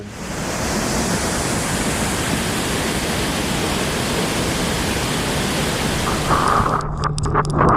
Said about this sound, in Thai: คราวนี้ที่น้ำตกตากโตนนะครับ